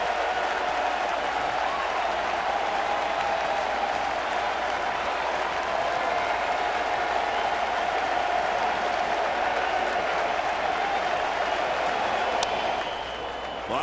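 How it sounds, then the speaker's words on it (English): A baseball stadium crowd stands, cheering and applauding with two strikes on the batter during a postseason game, a dense, loud, unbroken roar of clapping and shouting that holds for the whole stretch and eases slightly at the very end. "Crowd on its feet."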